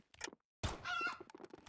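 A chicken in the Matr1x Fire shooter game clucks in a short, close burst after a brief gap, with soft game noise around it.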